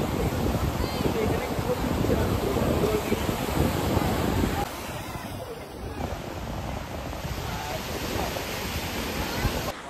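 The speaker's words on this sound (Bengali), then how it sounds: "আর দেখো জলের ঢেউটা জাস্ট মারাত্মক।" Sea waves wash onto Digha beach in a steady, roaring surf blended with wind buffeting the microphone, while someone talks over it.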